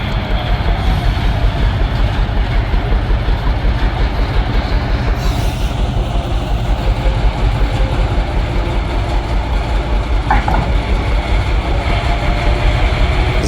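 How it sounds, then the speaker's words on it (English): Hunslet diesel shunting locomotive at the Didcot Railway Centre hauling other locomotives out, a steady loud rumbling engine drone with wheel and rail noise throughout, close by and continuous, with no talk. "the Hunslet started pulling out the locomotives"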